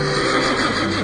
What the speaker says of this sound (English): Philonicus the Thessalian brought Philip a horse named Bucephalus